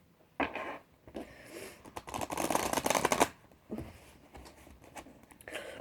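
Lenormand oracle cards shuffled up close for a reading, in several quiet bursts of papery riffling and flicking, the densest run lasting about a second, with brief pauses between.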